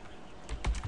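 A few quick computer keyboard key presses for a save shortcut, a couple of close clicks bunched near the end of a short quiet moment with no talk.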